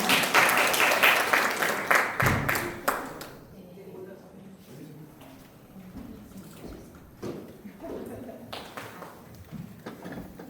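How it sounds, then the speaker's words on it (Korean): Applause from an audience at a community forum greeting a speaker, a burst of many claps in the opening seconds that fades out, followed by quieter scattered taps and talking. "큰 박수로 맞이해주시면 감사하겠습니다"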